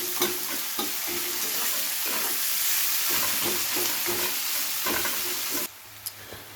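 Chopped onions frying in a pan for a katla fish curry, a steady close sizzle with repeated scraping stirs throughout, then the sizzle drops away to a quieter hiss near the end.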